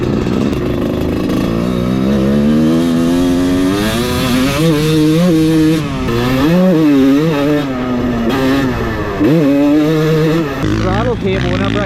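A rebuilt Kawasaki KX250 two-stroke dirt bike engine runs loud and close, its revs climbing and falling in repeated throttle blips with a raspy, buzzing tone.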